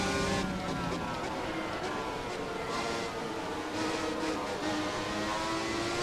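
Formula 1 race cars in the F1 2017 racing game, including a Ferrari 412 T2 and a Renault R26, with a steady high-pitched engine whine at sustained speed and passing cars layered over it.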